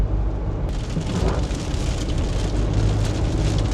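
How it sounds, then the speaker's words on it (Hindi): Rain falls continuously on a car driving along the Dwarka Expressway, a steady broadband hiss and patter of drops over the low rumble of the road, growing slightly fuller partway through. "देखिए बारिश"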